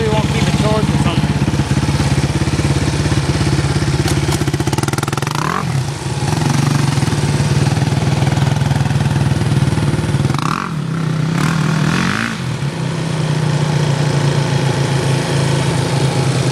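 A 2006 Yamaha YFZ 450 ATV engine runs loud and close with a continuous rough, rattly drone, dipping and picking back up a few times as the throttle shifts.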